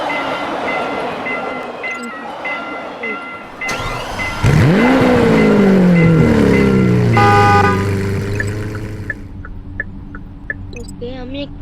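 A train in a driving video game rumbles past loudly, a horn-like tonal sweep rising and settling over steady engine noise, with short game beeps and chimes around it and no talk.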